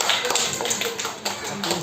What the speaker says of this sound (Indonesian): Mungkin kita kasih tepuk tangan untuk Basim tadi.